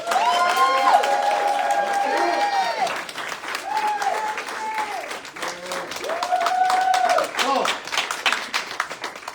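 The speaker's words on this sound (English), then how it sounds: "Please, let's give the class of 2021 a round of applause." A graduating class is applauded at a YouthBuild Louisville graduation, with steady clapping and scattered cheers from the crowd and voices calling out over it, intermittent whoops rising above the claps.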